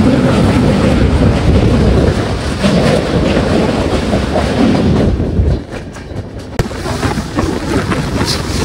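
Train crossing a bridge over the Ravi river, a loud, heavy rumbling roar of wheels on the span with rhythmic clatter, easing slightly partway through before carrying on.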